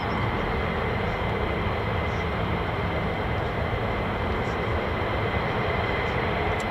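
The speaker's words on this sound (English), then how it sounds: "F-15's on the way" A US Air Force F-15 fighter jet of the 48th Fighter Wing at RAF Lakenheath, on approach to land, gives a steady, broad roar that holds at an even level throughout, fairly distant rather than close overhead.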